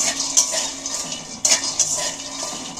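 Peanuts dry-roast in a pan with no oil. Dry rattling and scraping come from the stirring spoon against the metal, with a few louder clinks, close up and without talk.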